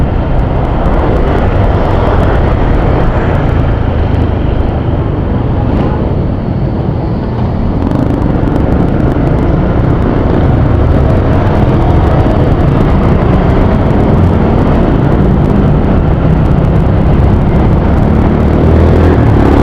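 A loud, steady engine roar with wind and road rumble on the San Mateo bridge, a constant near drone of a motorcycle running throughout without a break.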